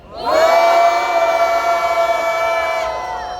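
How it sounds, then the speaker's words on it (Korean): A crowd of university student participants lets out a loud, sustained cheer and shout at the start of a press conference outside the Seoul Western District Court, rising sharply, holding, then tapering off. "참가자 여러분들의 힘찬 함성으로 시작하겠습니다"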